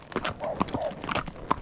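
A large horse being ridden clip-clops in a steady run of hoofbeats at moderate distance, with people's voices talking over it.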